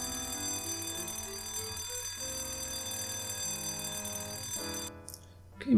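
Electronic alarm ringing aboard a ship in the Death Gate adventure game, a loud steady repeating tone pattern that carries on for several seconds before cutting off abruptly near the end.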